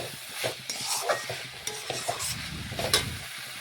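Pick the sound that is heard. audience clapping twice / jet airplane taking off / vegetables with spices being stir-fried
vegetables with spices being stir-fried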